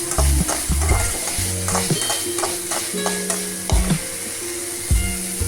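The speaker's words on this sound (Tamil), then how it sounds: "நல்லா வதக்கி விட்டுக்கோங்க." Ground tomato paste sautéing in a pan, a loud continuous sizzle with repeated scraping and clinking strokes of a spoon stirring, close and without talk.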